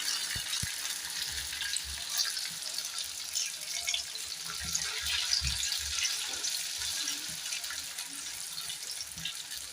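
Noodles added a little at a time to hot white oil, frying with a continuous hissing sizzle and occasional stirring taps, heard close and moderately loud with no talking.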